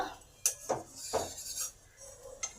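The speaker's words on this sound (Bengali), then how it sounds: "দু মিনিট পর চাপাটা খুলে দেখি কি অবস্থা" A lid comes off a frying pan with several sharp metallic clinks and clatters, spaced irregularly and fairly quiet, with no talking.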